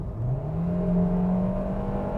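Heard from inside the cabin, a Hyundai Venue Elite 2020 with a 1.6 litre naturally aspirated petrol engine drones and strains under acceleration, a steady rising hum with faint whine above it, loud and continuous with no talking.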